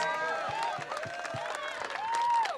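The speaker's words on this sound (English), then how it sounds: "Please give them a round of applause." Crowd applause and cheering at a community football match, mixed with excited voices and a whistle-like tone, brief and fairly close, with talk audible underneath.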